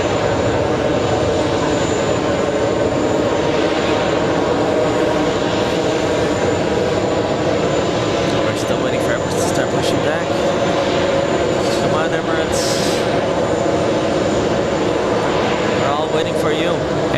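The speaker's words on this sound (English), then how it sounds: "KLM, flying to Amsterdam, is already on the runway" A KLM airliner bound for Amsterdam sits on runway 4 left at JFK airport, its engines holding a loud, steady roar throughout with constant wind noise and a few brief knocks.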